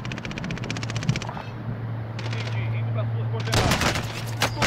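Gunfire in Call of Duty: Modern Warfare, with rapid automatic bursts opening, a lull, then a loud, dense volley near the end, under a steady game hum and occasional player talk.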